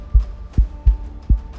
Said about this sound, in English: you might feel your heart beating faster